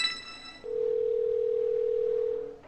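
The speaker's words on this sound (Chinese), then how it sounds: "手机打电话。" A mobile phone's outgoing call tone: after a brief burst of noise, one steady, unbroken tone holds for about two seconds, clear and moderately loud with nothing else over it.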